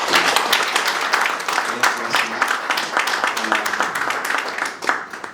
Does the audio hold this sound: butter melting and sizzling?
no